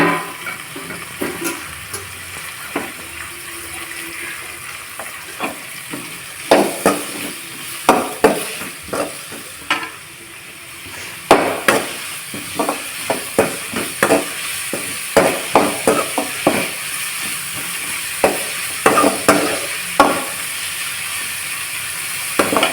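Onions and tomatoes sauté in a pan with a steady sizzle, punctuated by irregular scraping and stirring clatters from a spoon, close and loud with no speech.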